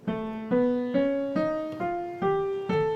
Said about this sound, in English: This is called the whole tone scale.